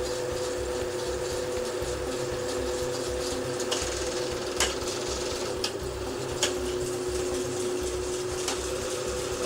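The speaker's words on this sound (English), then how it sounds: "So if it's already threaded right at the end of the film, just hit rewind," A 1983 Agfa Family Super 8 projector rewinds film with a steady close mechanical whir and hum, broken by a few sharp ticks and clicks.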